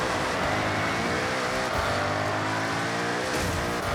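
The engine of an Alfa Romeo 33 Stradale races on a dirt course in Forza Horizon, a loud, continuous close engine drone holding a steady pitch with slight rises and dips throughout.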